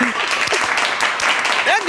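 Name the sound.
applause in played speech recording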